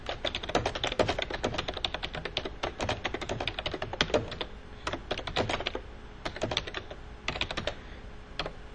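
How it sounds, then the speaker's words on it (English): Rapid, steady typing on a computer keyboard, a continuous patter of key clicks close by with brief pauses between bursts. "start typing in more information"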